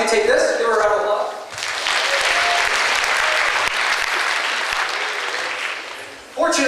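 An audience at a mentalist stage performance breaks into sustained applause, a dense, loud wash of clapping that runs for about five seconds before fading.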